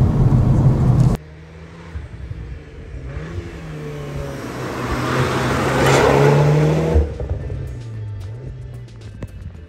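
An Audi S3 facelift sports car with 333 horsepower driving, its engine a steady mid-range drone from inside that builds and swells under acceleration, then eases off, loud and continuous.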